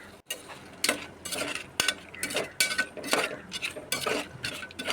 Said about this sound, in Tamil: அதையும் நல்லா கிளறி விட்டுடலாம்.